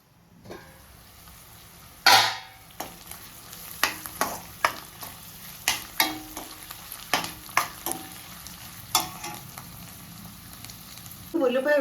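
Onions frying in a pan until golden brown, a steady close sizzle punctuated by a dozen sharp stirring scrapes and clatters at irregular intervals, with no talking.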